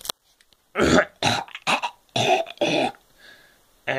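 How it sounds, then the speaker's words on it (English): A man coughs in a rough burst of several hacking, throaty coughs close to the microphone, then falls silent with faint background noise. "Nah, just coughing."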